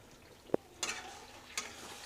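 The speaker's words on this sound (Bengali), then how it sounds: "তো আমরা এই সময় এটাকে একটু ভালো করে কষিয়ে নেব।" Village-style chicken curry is stirred and fried in oil, quiet background sizzle punctuated by a sharp utensil knock and two brushing scrapes of stirring, close and faint.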